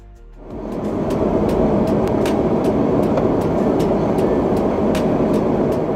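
A train approaches on railway tracks, swelling quickly from quiet into a loud, steady rumbling roar with sharp metallic clicks of wheels over the rails.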